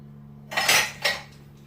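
Metal utensils clatter and jangle in a drawer as someone rummages for a garlic press, two close bursts of clinking in quick succession.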